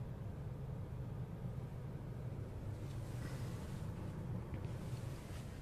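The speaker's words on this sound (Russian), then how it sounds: "Ветер какой еще творится." Strong stormy wind roars steadily outdoors in Komsomolsk-on-Amur, a constant low, rushing rumble with no speech, swelling slightly toward the end.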